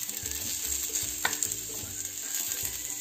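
Onion frying in a large pan with a soft continuous sizzle and occasional stirring scrapes, close but fairly quiet, no voices.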